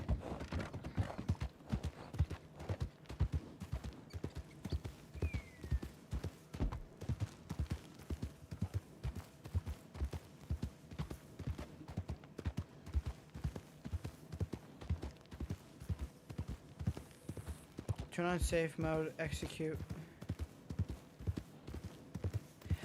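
A video game horse clip-clops in a long, steady, even rhythm of hoofbeats that runs throughout at a moderate distance, with a short burst of talking near the end.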